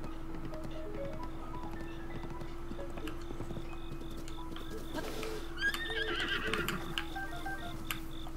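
A horse whinnies amid rhythmic clip-clop hooves in a game-like soundscape near Kakariko Village, with a low steady hum underneath and faint ticking.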